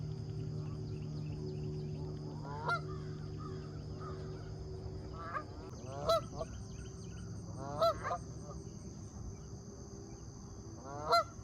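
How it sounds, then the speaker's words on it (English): Geese on a lake give several loud, nasal honks in short bursts, some close together, over a steady background of chirping crickets and a faint low hum. "It seems to me the geese like this lake a lot more,"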